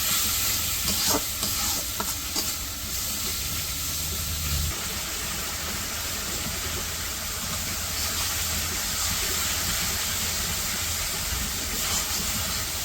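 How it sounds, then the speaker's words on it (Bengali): Chili, turmeric and cumin powders sautéing in a pan in a village kitchen, a steady loud hiss and sizzle with stirring scrapes and a low rumble in the first few seconds, no talk. "হলুদের গুঁড়া, একটু জিরার গুঁড়াও দিয়ে দিলাম। মশলাটা কষিয়ে নিই।"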